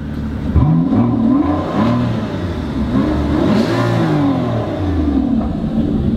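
An Aston Martin's engine revs and accelerates up close at the head of a road convoy, a steady mid-pitched drone that swells and sweeps up and down in pitch over several seconds with no talk.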